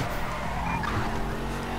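A car drifting in GTA V produces a steady, continuous tire skid with a droning engine underneath, loud and unbroken across the short span with no talking.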